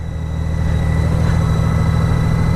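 A cruiser motorcycle engine runs loud and close, a dense, steady low rumble with a fast pulsing beat that holds even throughout with no voices.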